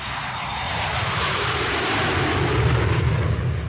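A large propeller airplane flies low overhead, its engine roar loud and steady for the whole stretch, swelling slightly toward the end.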